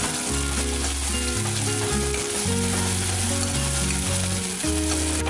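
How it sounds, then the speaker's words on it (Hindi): Chopped onion with ginger and garlic frying in oil for a semal flower curry gives a steady, close sizzle throughout, with music playing over it. "अब इसमें डालेंगे बारीक कटा हुआ प्याज।"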